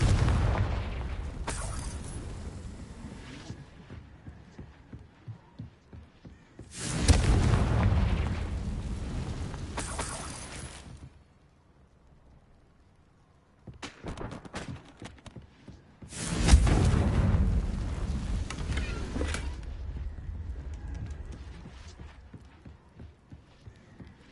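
Confringo explosion spells burst in the game Hogwarts Legacy, two heavy booms each swelling into a roaring, crackling blast that fades, with lighter clattering between them.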